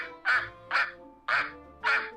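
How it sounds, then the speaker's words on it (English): Ducks quack four times in a steady rhythm, close and loud, in a children's storybook scene. "Mr. Hemlock, ducks!"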